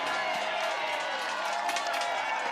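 Crowd cheering and roaring at Red Bull Rampage 2024, the mountain-bike freeride event, a continuous loud wash of spectators with a few sharper shouts toward the end.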